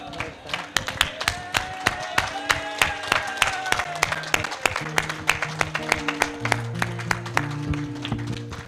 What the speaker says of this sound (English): both sets of parents deserve a round of applause.